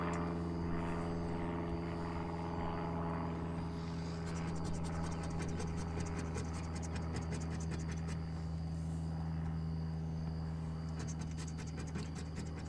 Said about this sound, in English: That's a low-flying plane.